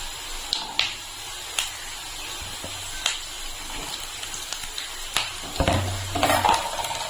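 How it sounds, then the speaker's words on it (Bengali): Prawn paturi parcels fry in a little hot oil in a wok, giving a steady close sizzle with scattered crackles and occasional sharper pops and clinks throughout. "এখন ভেজে নেবো আমি কড়াইতে সামান্য একটু তেল দিয়েছি"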